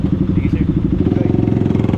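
A motorcycle engine and exhaust rumble loud and close during a test ride of a Royal Enfield, KYMCO or KTM bike, a steady pulsing throb with rapid regular beats, and a voice speaks over it.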